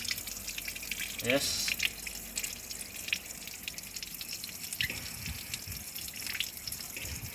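Running water streams steadily from a tap while a pet bird is being showered, moderately loud and close, with a person speaking briefly over it.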